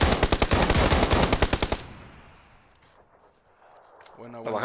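Rapid automatic gunfire in the PUBG video game on PS4, a loud, dense burst of shots that stops abruptly and fades into a quiet tail, with a voice starting at the very end.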